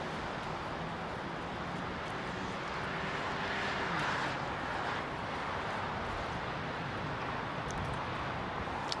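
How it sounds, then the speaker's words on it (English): An airliner taking off at London Heathrow on reduced, derated thrust, its engines a steady distant roar and broad hiss that swells slightly midway, with no speech. "That's why they will use a very derated amount of power"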